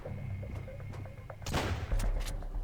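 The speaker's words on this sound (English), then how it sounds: "So we do have one over there, so let's just shoot like so." Gunshots fired at bandits in the survival game Sunkenland: a burst of loud, close shots with sharp cracks over a low ambient rumble, with a few lighter clicks before them.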